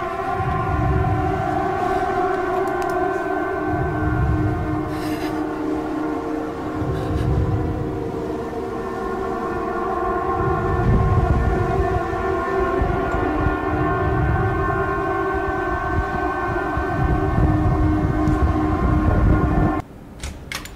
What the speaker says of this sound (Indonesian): Suara sirene itu kadang-kadang menjadi hal yang menyeramkan, guys